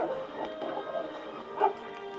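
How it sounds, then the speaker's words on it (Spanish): A dog barking sound effect in a Spanish stage comedy: a few muffled, fairly faint barks and yips spread over a couple of seconds against a quiet background. "un sordo ladrido resuena potente y fiero"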